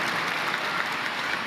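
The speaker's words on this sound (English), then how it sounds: "That's an applause line." Loud, dense applause from a large audience at the Sony E3 2015 press conference, a continuous roar of clapping that holds steady before cutting off abruptly.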